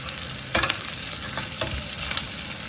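Ingredients for Mandi Saar fry in a pan under a continuous close sizzle, broken by a few sharp spatula scrapes and taps.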